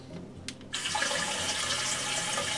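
Water from a bidet rushes through the lines in a steady, close hiss, starting after a brief click and running without pause.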